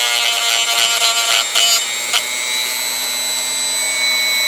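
A DEPSTECH rotary tool sanding runs as a steady high-pitched whine with a few brief louder scrapes as it bites, close by and alone with no talk.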